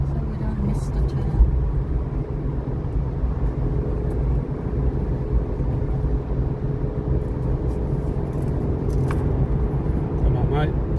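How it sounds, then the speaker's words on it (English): Steady rumbling road noise inside a car on the Badaling Great Wall Expressway near Beijing as a bus overtakes, a continuous low drone of engine and tires throughout. "Got a bus overtaking us."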